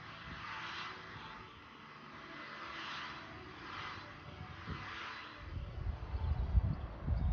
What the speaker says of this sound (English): Now I'm just going to get the heat gun and just run that over it, just to warm up the panel a bit